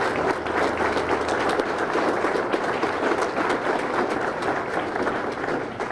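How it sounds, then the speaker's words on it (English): Steady, dense applause from a large audience honoring military veterans at a Medal of Honor recipient's key-to-the-city ceremony in Batavia, sustained and even throughout with no pauses. "Let's give them a round of applause as well."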